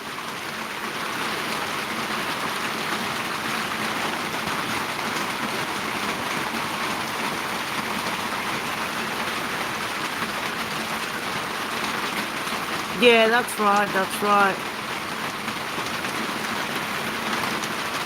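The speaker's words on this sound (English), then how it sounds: "I can't believe the rain." Heavy rain in Melbourne pours down steadily in a constant broadband hiss, with a brief burst of speech near the end over the downpour.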